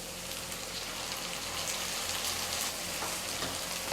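Ground garlic-pepper paste sautés in a pan for okra gravy, giving a steady close sizzle and crackle that continues evenly without a pause.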